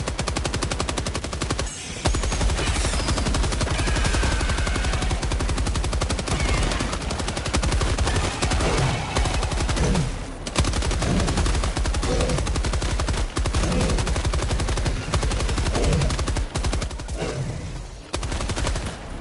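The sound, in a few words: gunfire in Helldivers 2 video game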